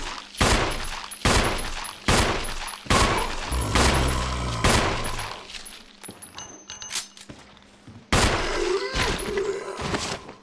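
Gunfire in the Resident Evil video game, a series of loud, sharp shots spaced roughly a second apart, each with a ringing tail, followed by quieter rumbling and one more blast near the end.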